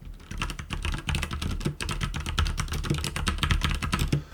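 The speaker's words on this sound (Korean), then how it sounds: "그 도각도각하는 소리는 확실히 적축의 느낌이네요" Fast, continuous typing on an Abko K590 mechanical keyboard with red linear switches, a close, rapid stream of deep clacky keystrokes with no voices.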